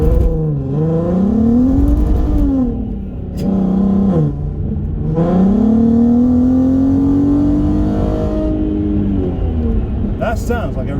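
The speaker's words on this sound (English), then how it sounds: "That sounds like a racing car to me." A Volkswagen Golf R32 engine revs repeatedly, rising and falling in several loud, close sweeps with a steady rumble between them.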